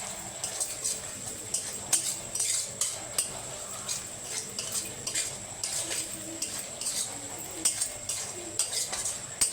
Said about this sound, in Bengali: দিয়ে এমনি হালকা করে একটু নেড়ে নেব।